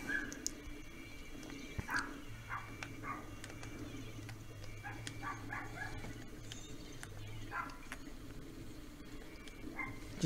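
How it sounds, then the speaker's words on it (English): A dog barks, yips and whimpers in the background, faint and intermittent, set against quiet room sound from a Splatoon 2 gaming session. "Sorry for any, barking you hear in the background."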